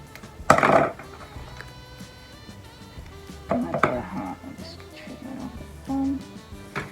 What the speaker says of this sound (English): let's chop that bit off, cut it out